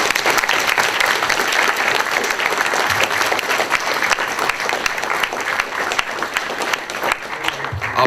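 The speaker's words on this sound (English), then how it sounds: "Round of applause." An audience at a community musician discussion panel gives a round of applause, dense continuous clapping from a sizeable crowd with a few voices mixed in, sustained for the whole stretch.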